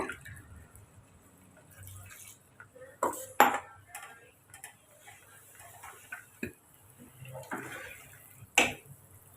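Chicken gravy is stirred in a pressure cooker pot, giving sparse, scattered clinks and taps of a utensil against metal, fairly faint, with quiet pauses between strokes.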